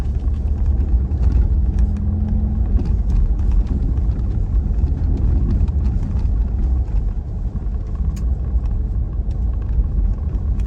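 A 2020 Ford Raptor truck driving along a dirt trail, a steady low engine and road rumble that carries evenly throughout, with faint rattles and bumps over the top and no talk.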